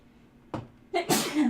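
A single loud sneeze, preceded by a short sharp inhale, close to the listener.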